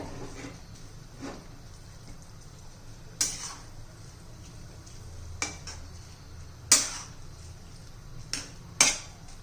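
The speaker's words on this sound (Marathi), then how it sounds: "याच्यावर झाकण ठेवून देऊया आणि शिजून देऊ" A lid settles onto a cooking pot of spiced gram-leaf greens, giving several sharp metallic clinks and clatters spaced over a low, steady kitchen background.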